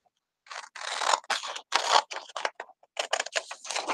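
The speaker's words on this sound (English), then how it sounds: "all you got to do is take your scissors" Scissors snip through paper in a quick series of crisp cuts, irregular bursts of slicing and crunching close up, with no talking.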